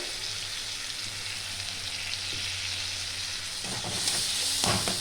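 Spice masala of Kashmiri chilli and salt sizzles as it is fried with a splash of water, a soft steady crackle that swells into a louder hissing burst near the end, with no voices.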